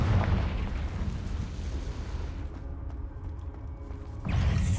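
A Confringo fire spell explosion from Hogwarts Legacy bursts out loud at the start and rumbles away, with a second heavy blast hitting near the end.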